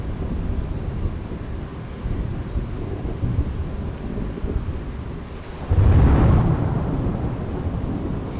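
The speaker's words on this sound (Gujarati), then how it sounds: "હજુ પણ ધોધમાર વરસાદ યથાવત છે।" Heavy monsoon downpour in Surat roars as a constant close wash of rain, broken near the end by a loud deep rumble of thunder that swells suddenly and then lingers under the rain.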